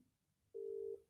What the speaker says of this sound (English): why the fuck's your phone ringing, bro?